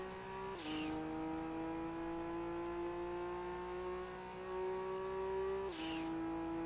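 A six-speed Nissan Skyline race car in the Gran Turismo 2 video game pulls off the line, its engine note climbing steadily through a gear, with a shift and a brief dip partway through before the note rises again, clean with no talk.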